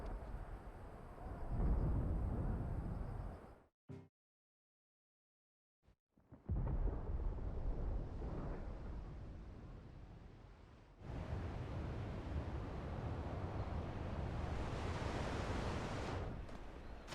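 Deep rolling thunder rumbles in a Final Fantasy XVI cutscene near a harbor warehouse, a loud broad roar that cuts out briefly to silence, then returns as a sustained hissing, rain-like wash.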